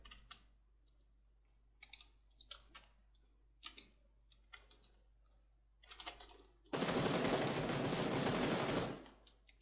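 Gunfire in PUBG Lite comes as sparse single shots and clicks at first, then a long loud burst of sustained automatic fire runs about two seconds before cutting off.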